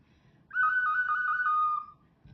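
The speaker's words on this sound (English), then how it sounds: "if I blow in the whistle and then I move my finger on the hole, it'll make a different sound" A clear, steady clay whistle tone sounding for over a second, its pitch shifting slightly as a finger moves over a hole, then stopping cleanly over quiet background.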